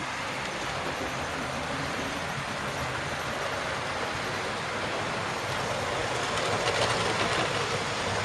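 Model railway trains run around loops on a loft layout, giving a steady, dense rolling rumble and clatter of wheels on track that stays even throughout.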